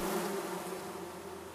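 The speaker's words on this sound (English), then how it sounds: "Oh, there's another beehive." Bees buzzing around a beehive in the forest game Among Trees, a continuous droning hum that fades slightly after the opening, heard alone without talk.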